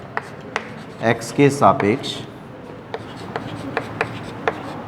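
A marker or chalk writes a mathematics equation on a classroom board, giving scattered, sharp taps and short scratchy strokes. A teacher speaks briefly over them early on.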